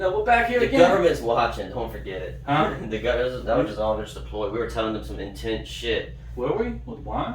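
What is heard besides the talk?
No everyday noises stand out.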